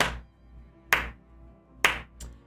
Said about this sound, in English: The woman gives you the tailored, traditional, slow, sarcastic clap as you step forward.